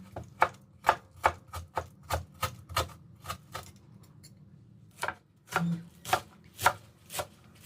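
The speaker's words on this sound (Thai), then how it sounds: "หั่นข่าเป็นแผ่นบางๆ ส่วนหนึ่งก็ซอยเป็นชิ้นเล็ก ๆ" A knife slices galangal thinly on a cutting board for a Thai herb dish, giving crisp, evenly spaced close chops in quick bursts, pausing briefly midway before resuming.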